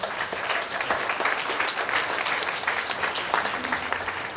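A crowd at a climate march in Franklin gives a round of applause for a musician, steady clapping with a few cheers carrying on throughout at an even level.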